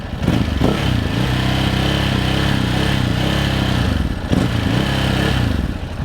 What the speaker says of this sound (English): Here is a sample of the exhaust note.